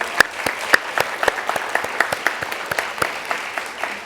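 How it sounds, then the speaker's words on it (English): Audience applause after an awards presentation at a young writers' conference, a steady patter of many hands clapping with a few sharper individual claps standing out, sustained and fairly close throughout. "Another round of applause."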